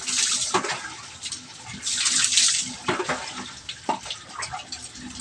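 Running water rinses suds off a pet dog named Coco during a bath, a loud continuous splashing wash with surges and spatters close by.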